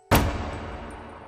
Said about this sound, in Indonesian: aku mendengar suara ledakan kecil dari dapur.